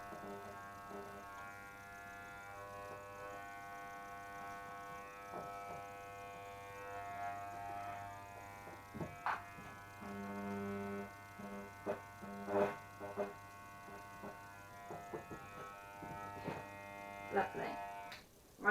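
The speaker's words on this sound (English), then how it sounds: "I'm just going to follow it round with the clippers, making sure it's away from the ear line and it's nice and clean." Electric hair clippers buzz steadily while trimming around the ear line, a continuous mid-level hum broken by scattered clicks and handling noises, with talking faintly in the background.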